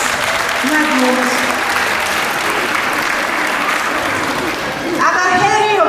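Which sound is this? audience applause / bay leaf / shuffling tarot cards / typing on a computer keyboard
audience applause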